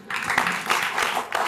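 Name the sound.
audience applause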